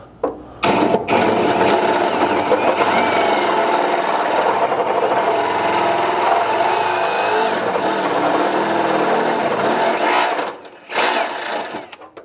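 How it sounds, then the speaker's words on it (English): A drill opening up a hole with a 17/32-inch bit while fitting a Ford Maverick gas tank skid plate, whirring loudly and steadily for about ten seconds, then stopping, with one short final burst. "And then with our drill bit swapped out, we can finish out our hole."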